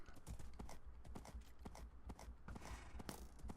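Horse hooves clip-clop in Minecraft in a steady, close, fairly loud rhythm of hoofbeats, with no voices.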